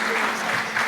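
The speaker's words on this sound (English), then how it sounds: "put a big round of applause for our 4 visionaries" Applause from an audience at a conference evening session, a brief burst of dense clapping that fills the whole short moment.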